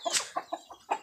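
Chickens cluck in short, separate bursts, five or six quick calls spread over about a second, close and moderately loud, with no talk.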